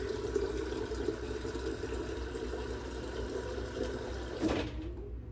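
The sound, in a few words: water filling a bottle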